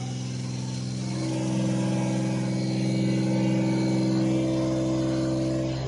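DC motor-generator set in a lab speeding up toward 1500 RPM, a steady humming whine of layered tones that swells slightly in loudness as it runs, with faint talk in the background.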